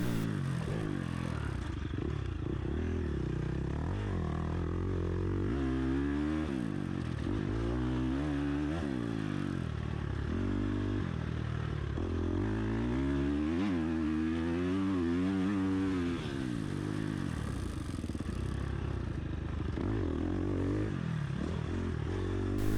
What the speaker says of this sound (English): titanium header and silencer just sounds so good